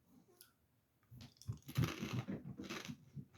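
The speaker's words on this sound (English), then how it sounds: "It's a really deeply profound crunch." Crunchy chewing of a fried, sugar-glazed crab snack, close to the mouth, with a run of crisp bites and crackling crunches after a quiet start.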